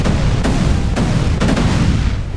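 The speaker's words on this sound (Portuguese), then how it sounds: "Cria umas explosões bem potentes." Powerful explosions set off by a jutsu attack in the GTA San Andreas mod, a series of loud booming blasts around 0.45, 0.95 and 1.5 seconds over a constant dense rumble, with no talking.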